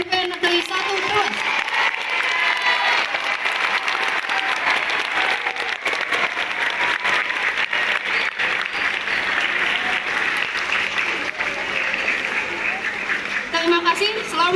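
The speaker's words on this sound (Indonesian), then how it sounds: "Kita kasih tepuk tangan untuk SMP Negeri 1 Trewes." Sustained audience applause at a school app launch event, as a crowd claps steadily and loudly throughout, with a few voices mixed in.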